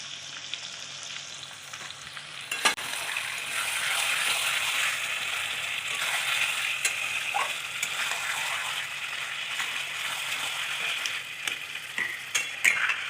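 Spices sizzle in hot oil with frying chicken kosha, a steady close crackle broken by sharp clinks and scrapes of stirring, busiest near the start and again toward the end.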